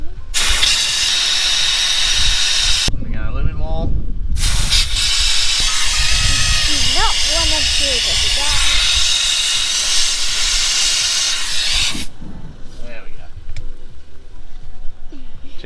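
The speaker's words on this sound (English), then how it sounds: "We're gonna let the tyres down." Air hissing loudly and steadily out of a 4x4's tyre valve as the tyres are let down for beach driving, a close continuous rush broken by a brief pause, with people talking over it.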